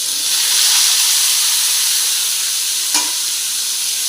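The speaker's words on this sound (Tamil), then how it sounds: "இப்போ எல்லாமே நல்லா பொரியட்டும்." Onions fry in a pan for dried fish thokku, giving a steady, close sizzling hiss throughout, with one brief clink or stir near the end.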